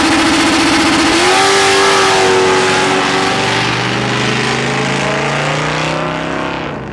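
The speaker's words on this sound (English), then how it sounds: "Wow, that little silver Camaro has some RPM to it." Little silver Chevrolet Camaro drag car at a drag strip race, its engine blasting loud and close, sweeping up to a high rev and holding a sustained roar before easing off at the end.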